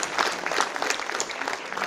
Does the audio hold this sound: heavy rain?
no